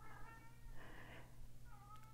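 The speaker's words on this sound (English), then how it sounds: "can you hear the kitty? He's just realized that I shut the door on him." A male house cat meows repeatedly from behind a shut door, upset at being closed out; the calls are muffled and moderately distant over a steady low hum.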